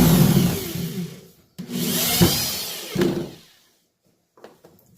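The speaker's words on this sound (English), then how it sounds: "drilling it in." A power drill drives a screw into a kayak motor mount in two or three close bursts of buzzing whir, each fading down, followed by near silence and a couple of faint clicks.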